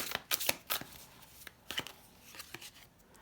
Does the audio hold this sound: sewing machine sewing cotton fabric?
no